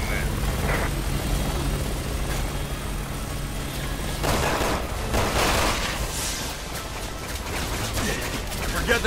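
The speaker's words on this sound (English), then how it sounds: "Captain Sparko, that's an armored chopper they brought in" An armored helicopter in the Resident Evil 6 video game whirs steadily through the scene amid bursts of gunfire and booms, with game dialogue spoken over the din.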